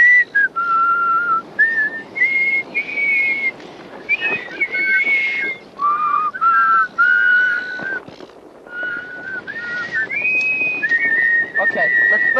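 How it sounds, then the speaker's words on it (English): A person whistles a march tune, the Stars and Stripes, in a steady run of bright sustained notes over about twelve seconds, with short pauses between phrases and some outdoor background noise. "Do you want me to whistle the Stars and Stripes for you?"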